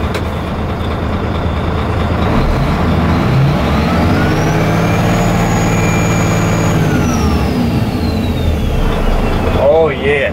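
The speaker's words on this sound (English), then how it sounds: "Yeah, turbo noise." Volvo tow truck with a manual transmission running down a road, its engine droning loudly with a rising and falling turbo whistle over the rumble, and a voice speaking briefly near the end.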